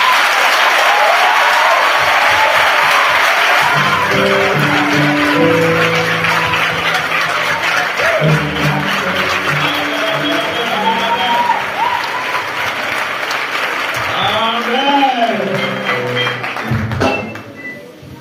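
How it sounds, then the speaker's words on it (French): A church congregation breaks into sustained applause and cheering during a Sunday service. The dense clapping runs throughout, with voices and a sung or chanted melody rising over it, before everything drops away abruptly near the end. "Est-ce que cette sœur et ce frère ne méritent pas une acclamation spéciale?"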